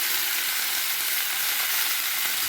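Vegetables and onion stir-fry in hot oil for daliya, giving a continuous, even, loud sizzle with no voices over it.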